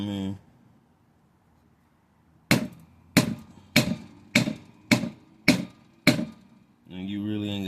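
A copper bracelet is struck by a hammer seven times at an even pace, sharp close metallic blows, with someone speaking before and after.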